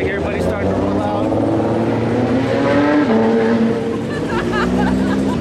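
Cars rolling out of a Cars and Coffee meet: loud, close engine drone with pitches rising and shifting as vehicles pull away, under bursts of nearby talk.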